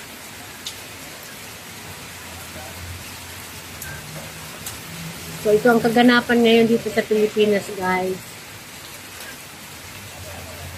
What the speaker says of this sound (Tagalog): So, parating na naman si rain.